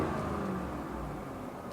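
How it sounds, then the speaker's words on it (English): 2017 Ford F150 XLT pickup with a stock 5.0 V8 revs briefly, a soft, low engine rumble heard from a short distance and fairly quiet, with no talk over it. "We'll rev it a little bit."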